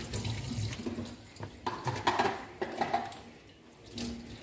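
Tap water runs into a pot in a home kitchen, a soft splashing, gurgling stream with uneven surges and occasional clinks of cookware, fairly quiet and close, no speech.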